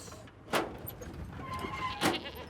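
Goats crowded in a livestock truck pen bleat twice, loud and close, with a mixed rumble of movement and hauling noise underneath.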